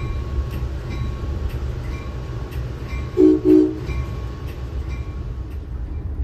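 Amtrak Metroliner cab car rolling along the rails, a steady low rumble and rattle of the train in motion with a brief two-part horn sounding midway, no voices.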